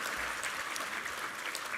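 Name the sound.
congregation applause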